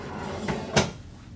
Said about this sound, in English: We're going to lock it into place on the drawer glides